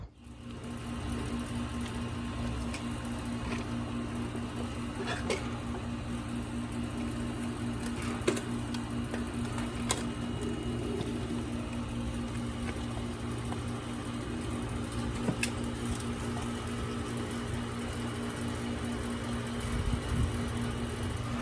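An ACiQ 3-ton heat pump runs with a steady, even mechanical hum and low drone, holding constant throughout with a few faint clicks and no talking.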